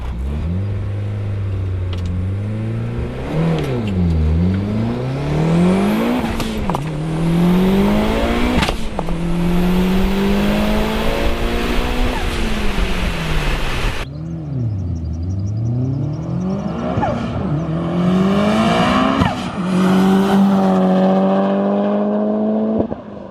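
A 500-wheel-horsepower DSM car revs hard from a standstill and climbs through several gears as it accelerates, loud and close, the pitch rising and dropping at each shift.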